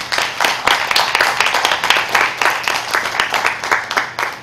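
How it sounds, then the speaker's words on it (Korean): Wedding guests applaud in a hall, steady dense clapping that is loud and close and holds for the whole stretch with no talk over it. "여러분 큰 박수 부탁드리겠습니다."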